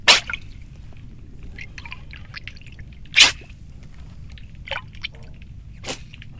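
Fishing line pulled up fast, heard underwater: a few sharp splashy swishes and faint clicks over a low murky hiss, about four bursts spaced apart.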